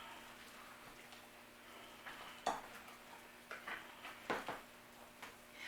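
A whole bag of chocolate chips being stirred into chocolate chip cookie dough gives quiet, close, irregular scraping and clicking strokes, a few louder knocks standing out over faint background hiss.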